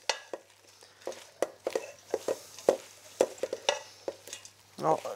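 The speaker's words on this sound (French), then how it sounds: "délicatement, on va bien mélanger toutes les salades" A spatula tosses a herb salad with dressing in a bowl, giving soft wet stirring and scraping sounds with irregular clicks against the bowl, close and fairly quiet, with no talking.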